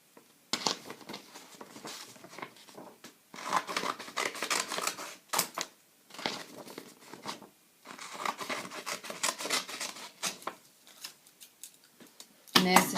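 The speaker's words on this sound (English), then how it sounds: "you grab your scissors and you just snip half of the corner off" Scissors snip the corners off paper for a Christmas art project, giving a run of crisp, close cutting and rustling sounds in bursts with short pauses.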